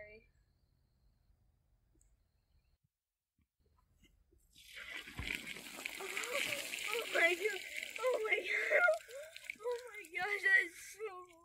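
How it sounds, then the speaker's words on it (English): Water from a bucket pours over a person's head: after several seconds of near silence, a rushing splash and sloshing begin and continue, with gasping vocal sounds mixed in toward the end. "I'm gonna dump a bucket of water on my head."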